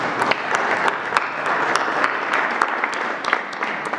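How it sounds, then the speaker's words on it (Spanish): Audience applause for state governors at a federal government press event in Palacio Nacional, a steady wash of many hands clapping with sharper individual claps standing out, sustained and fairly loud. "Sí, un aplauso a los gobernadores porque nos han ayudado"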